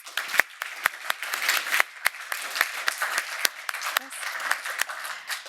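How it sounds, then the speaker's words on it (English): A seminar audience gives the speakers a round of applause: scattered individual claps, close and distinct, keep going in an irregular rhythm over a thin clapping wash. "I would like all of you to please give a round of applause for all the speakers"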